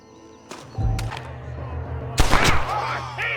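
A gunshot in Red Dead Redemption cracks out sharply and loudly against a low steady game backdrop, preceded by a few lighter thuds and followed by ringing echoes.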